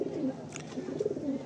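Madrasi pigeons coo in a low, steady murmur, several overlapping soft rolling calls close by, with no talking.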